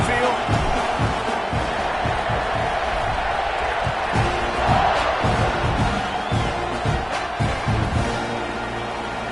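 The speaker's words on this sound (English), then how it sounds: "You think this crowd's going to get loud when their defense comes on the field?" A stadium crowd roars steadily in a college football video game, Texas A&M hosting Penn State, a dense and continuous wash of noise under an announcer's voice.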